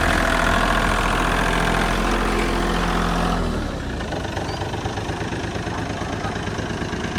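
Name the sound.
excavator diesel engine running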